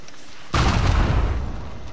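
A sudden, loud explosion in the video game Uncharted 4 bursts after a brief quiet stretch, then rumbles on as a deep roaring wash that slowly fades.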